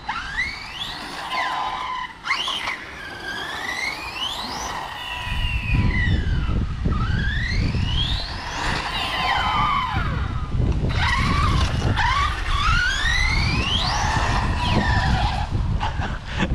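A car slides sideways under brutal acceleration then braking, with loud sustained tire squeal in sweeping pitch bends over a heavy engine roar that grows louder midway, continuous throughout.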